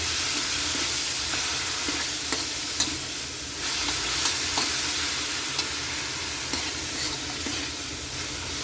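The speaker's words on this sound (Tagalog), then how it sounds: "Ilagay na natin ang ating pag-uong alamang. Ikos muna natin ulit, Kayli." Sautéed shrimp paste stirred in a pan while cooking laing, a continuous loud sizzle and hiss up close with periodic scrapes and light clicks of the spoon, no speech.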